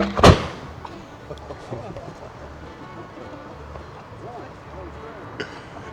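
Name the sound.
artillery cannon firing at Gettysburg demo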